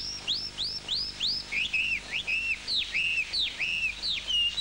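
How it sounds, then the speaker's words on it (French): Birds sing in a quick run of bright, repeated whistled phrases, rising and falling and close by, one after another without pause, with no one talking. "d'autres des oiseaux, dont le chant vient rythmer la poésie des gestes"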